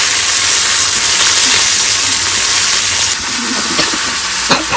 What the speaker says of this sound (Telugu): దీంట్లో కొద్దిగా ఆయిల్, ఆవాలు, జీలకర్ర చిటపటలాడాయి.